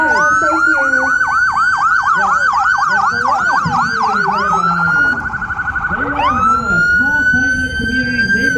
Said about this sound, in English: They love those sirens.